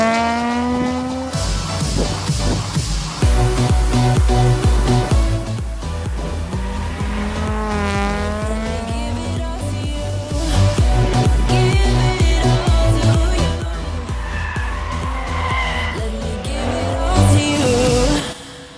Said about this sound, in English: I was amazed at how quick Peter's Honda Integra got around the track as well